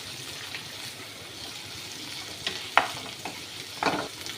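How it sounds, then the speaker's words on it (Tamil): Drumstick leaves sauté in oil in a pan, giving a soft continuous sizzle with a few sharper stirring clatters and scrapes toward the end, fairly quiet and close. "எண்ணெயில் லைட்டாக முருங்கைக்கீரை வதக்கிக்கோங்க ஒரு நிமிஷம் வதக்கினாலே போதும்"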